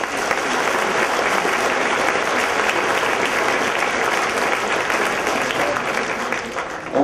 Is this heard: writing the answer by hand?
no